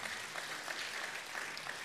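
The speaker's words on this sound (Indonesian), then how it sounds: "Tepuk tangan dulu yang meriah buat Tuhan kita." A church congregation claps during a prayer service, a faint, dense, steady patter of many hands with no voices.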